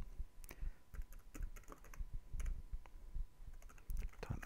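Close, quick keystrokes on a computer keyboard as a username and password are typed in, an irregular run of crisp clicks with short pauses and no voices.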